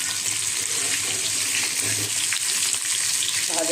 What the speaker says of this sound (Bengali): এখন একটু লাল লাল করে ভেজে নেব।